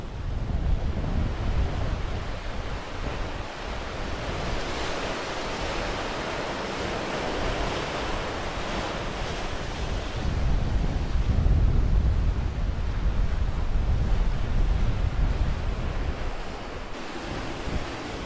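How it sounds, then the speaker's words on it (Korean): Rough sea surf on a Galápagos shore roars continuously with heavy wind noise, waves churning and swelling louder midway through. "잔잔한 해안가와는 달리 파도는 거칠기만 합니다."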